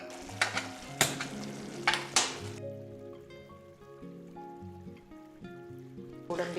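Cashews fry in ghee in a small pan, giving a soft, steady sizzle broken by a few sharp stirring clatters, fairly quiet and close, with no talking.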